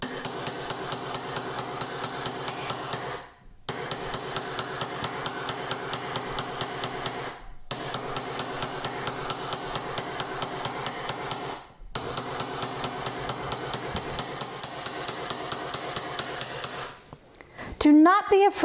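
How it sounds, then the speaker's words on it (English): Rapid, steady metal hammer blows forging a metal ring on a tapered mandrel, ringing out in long runs, pausing briefly every few seconds, loud and close. "You are going to need some strength behind your hammer blows to get this metal to move."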